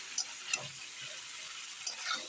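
Cauliflower with peas and new potatoes fries in a pan with a faint, steady sizzle and a few light ticks of a spatula. No voices.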